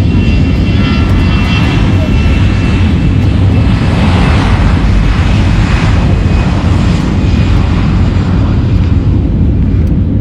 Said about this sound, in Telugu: ఫ్లైట్ టేక్ ఆఫ్ అయితే అయిపోయింది.